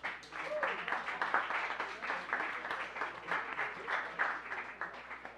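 An audience at the Neurosciences MTL 2024 public science event gives a round of applause, sustained dense clapping from a crowd that holds steady throughout with voices mixed in.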